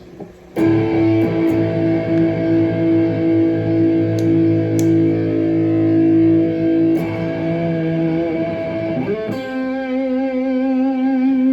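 A Fernandes electric guitar with a sustainer is played through distortion. Long held notes ring out close and loud with steady, unbroken sustain, shifting pitch near the end, with no voices.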